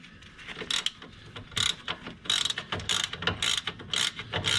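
A ratcheting wrench works loose the worn factory end links on a car's suspension, producing bursts of rapid metallic clicking in uneven strokes, close and fairly quiet, with no voices.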